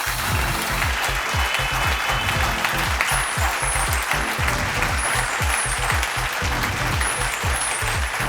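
Studio audience applause welcoming a contestant onto a fashion reality-TV show, steady dense clapping that stays loud and continuous throughout, with some faint crowd noise and a few brief high tones in the background.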